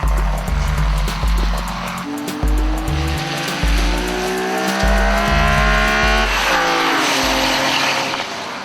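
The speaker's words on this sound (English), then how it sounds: "While the all-wheel drive Warriors continued to carve it up, some of the other vehicles had a hard time keeping it on the track" All-wheel drive race cars roar around a rain-soaked track, engines revving loudly and close with rising gear changes and tyre squeal, alone without voices.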